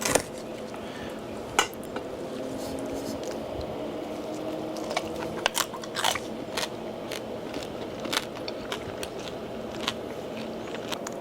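Crispy pork belly skin, marinated with five spice and cooked on a pellet grill, being bitten and chewed, giving sharp, scattered crunches over a faint background with occasional clinks of cutlery against a plate.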